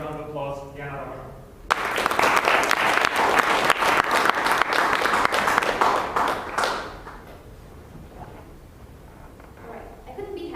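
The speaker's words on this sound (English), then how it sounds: "with a huge round of applause" A voice speaks briefly before a Toastmasters public speaking club audience bursts into loud, dense applause lasting about five seconds, which then tapers off into a quiet room.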